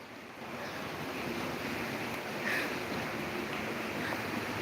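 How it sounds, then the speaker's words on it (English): A river flows outdoors with a steady, broad rush of water blended with wind buffeting the microphone, continuous and moderately loud with no talking. "I want to show you a river."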